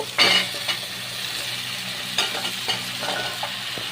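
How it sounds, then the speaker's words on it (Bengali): Vegetables stir-fried with turmeric, cumin and salt for khichuri, a close low sizzle under a few sharp metallic clinks and spoon scrapes against the pot, with no speech. "সবজিগুলো কিন্তু ভালো করে কষিয়ে নিতে হবে"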